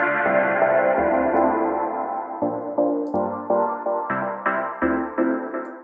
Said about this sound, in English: this is great to create even more movement with your reverb